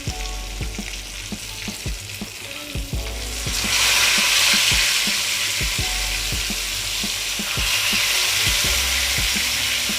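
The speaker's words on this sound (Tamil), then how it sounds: "ஸ்டவ் மீடியமில் வச்சு 3லேருந்து 5 நிமிஷம் வரைக்கும் ஃப்ரை பண்ணிக்கோங்க" Fish fries in oil on a stove over a medium flame, a continuous close sizzle that swells louder partway through, with regular clicks and taps from the pan underneath.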